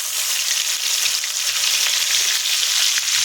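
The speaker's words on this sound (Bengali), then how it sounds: "রসুনটা একটু লাল লাল করে ভেজে নেব।" Chopped garlic sizzles in hot oil with bay leaf and whole garam masala for a chicken curry, a loud, steady, hissing fry that runs without a break and with no talking.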